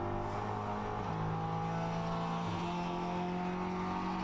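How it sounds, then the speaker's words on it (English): Sports race cars, including an Audi, lap Lime Rock Park during the Continental Tire SportsCar Challenge, a continuous engine drone with shifting pitch as cars rev and pass, heard alone at moderate level. "Audi. Tom Long trying to get back on terms with his teammate Kuno Whitmer, who's now the next car ahead as he goes towards West Bend"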